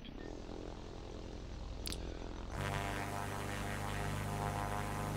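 In a mobile GTA 5 copy game, a helicopter engine spools up into a loud, steady humming drone with a rising pitch, following a quieter buzzing stretch.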